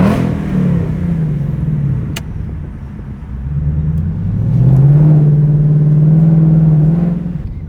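A Ford Mustang Mach 1's exhaust revs up and settles, deep rumbling swells rising to a sustained throaty roar, close by with no talking.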